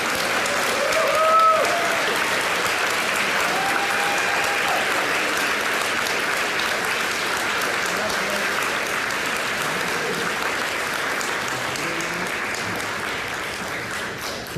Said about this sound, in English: Please join me in a resounding round of applause for Norris Daniel.